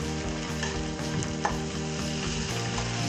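Coriander leaves sauté in a pan of prawn gravy made with large export prawns, with a continuous, even sizzle and light stirring close by.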